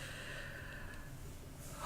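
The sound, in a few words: deep breath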